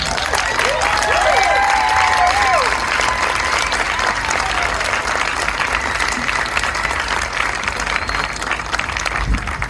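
A PechaKucha Night audience in Cleveland applauds steadily and loudly after a talk, a dense wash of clapping with a few whoops near the start, sustained for the full length.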